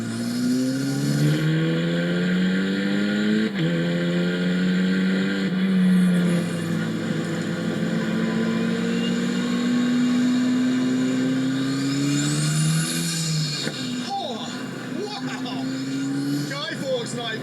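An Ariel Atom 4R with a titanium exhaust drives on the road, its engine holding a steady, fairly loud drone that rises and dips with throttle, while a voice talks over it throughout.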